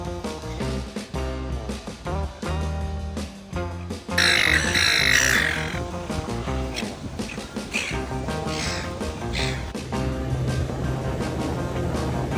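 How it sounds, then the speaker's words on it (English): Seagulls squawk in bursts of sharp, harsh cries over a busy, continuous background, with the loudest calls coming in mid-stretch, close and loud throughout, with no talk. "If there were a list of thieves from the Sky Seagulls would definitely rank near the top."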